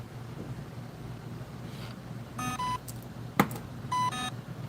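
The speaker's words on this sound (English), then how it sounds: "It keeps beeping." Electronic beeps from an Insta360 Flow phone gimbal losing tracking, a few short tonal bleeps in quick bursts over a steady background hum, fairly faint and with no talk.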